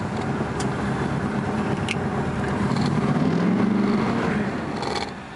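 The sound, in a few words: car engine running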